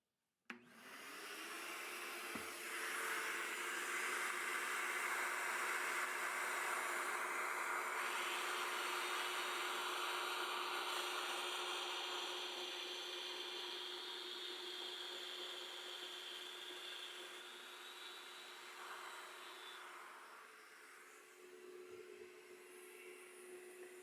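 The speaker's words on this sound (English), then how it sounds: "So we'll start doing some plunge cutting." Domino joiner plunge-cutting mortises into wood for the legs of a Japanese two-way braced stool, a steady loud motor whine running about twenty seconds with a shifting cutting tone, then winding down near the end.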